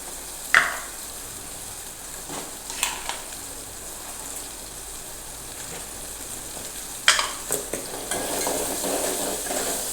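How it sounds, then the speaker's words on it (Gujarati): Tomatoes sautéed in a pan with ginger garlic paste, curry leaves, asafoetida and spices, a low continuous sizzle broken by a few sharp spoon knocks and scrapes against the pan, with the frying growing brighter toward the end. "ટામેટાં હવે તેમાં બરાબર મિક્સ કરી લેશું"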